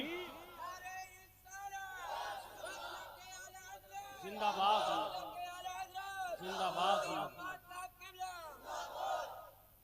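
A large crowd at a religious gathering roars back in unison to the Nara-e-Takbir slogan, with loud chanted shouts rising and falling in repeated waves of many voices.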